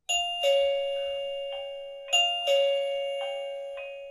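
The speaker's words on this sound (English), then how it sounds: "So then we press the doorbell button to pair." An Arenti VBell1 wireless doorbell chimes a ding-dong tone sequence twice while pairing, clear electronic notes ringing out and fading in a quiet room.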